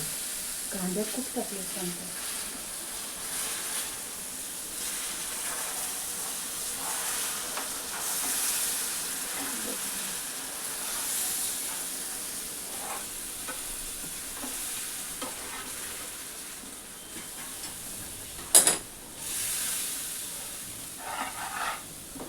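Milk poured into a pan of moong dal halva, followed by a long steady sizzle and hiss of hot frying under a stirring spoon, with a few brief clinks and a speaking voice near the start.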